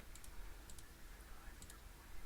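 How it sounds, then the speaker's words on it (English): Quiet, fast clicking on a computer keyboard and mouse during game development, a few crisp pairs of taps over a low room hum, faint and without talk. "I'm just clicking too fast."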